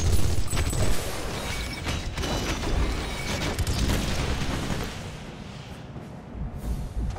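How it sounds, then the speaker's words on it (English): Dense rumbling booms and crackling blasts from explosions in Marvel Ultimate Alliance 2 on PS3, continuous and loud, layered with mechanical noise throughout. "A lot of explosions."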